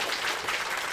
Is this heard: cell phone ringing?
no